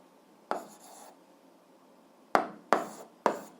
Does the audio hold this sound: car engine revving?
no